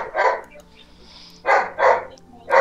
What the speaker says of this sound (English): Woof woof goes the dog.